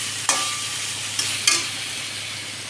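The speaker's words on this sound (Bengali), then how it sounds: "তো মাছগুলোকে ভালো করে কষাচ্ছি" Pangas fish stir-fried in spice masala sizzles steadily in a pan, punctuated by three sharp spatula scrapes and clinks.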